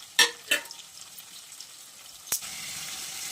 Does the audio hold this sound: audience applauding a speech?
no